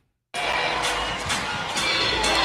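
Basketball arena crowd erupting in a loud, sustained roar of groans and shouts of disgust after an adult toy is thrown onto the court, starting abruptly after a brief silence and staying dense throughout.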